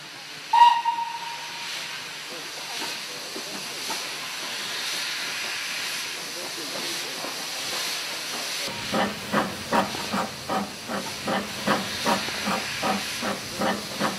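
Steam locomotive Sagoma gives a sharp whistle blast, then a long steady hiss of escaping steam, followed by a run of rhythmic chuffs as it works back toward Mountain Ash.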